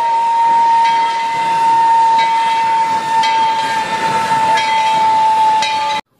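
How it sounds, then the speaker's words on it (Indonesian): A loud, steady toy Thomas steam train whistle blows continuously for about six seconds, a shrill single tone with hissing steam, then cuts off abruptly. "Lihat teman-teman, di sini kita ada kereta api Thomasnya juga."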